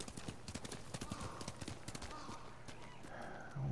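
Hooves clip-clop in an uneven rhythm at a moderate distance in Ghost of Tsushima's marsh, with a brief snort or whinny near the end, fairly quiet overall.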